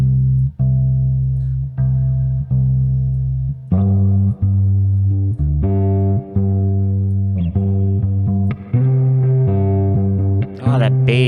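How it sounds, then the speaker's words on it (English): An electric guitar runs through a distortion effects preset with bass boosted on a sixties-style effects unit, played as sustained, thick chords and notes that ring out loud and close, changing pitch every second or so. "Oh, that bass really brings out that distortion."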